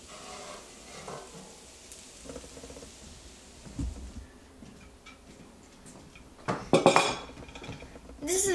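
Thai fried noodles are served onto plates, with faint scattered ticks and then a short cluster of sharp dish and cutlery clinks near the end, close by.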